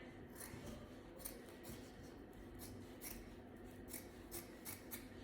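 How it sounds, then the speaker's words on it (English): Scissors snip through ribbon for a tutu skirt, a quick series of close, crisp cuts repeating at a brisk irregular rhythm, faint and with no talking. "But first I'm gonna start with cutting off one side."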